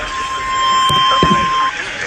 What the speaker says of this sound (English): this has been a test of the NOAA All-Hazard Weather Radio Alarm System